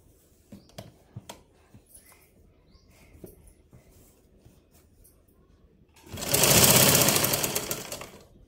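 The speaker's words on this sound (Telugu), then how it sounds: "ఇక్కడ సైడ్ కూడా ఇట్లానే కుట్టుకోవాలి." A domestic sewing machine runs a fast, continuous burst of stitching along the side seam of a blouse, starting loud and easing slightly before stopping, after a few quiet clicks and fabric handling sounds.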